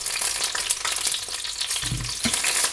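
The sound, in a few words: wet ingredients spattering in hot oil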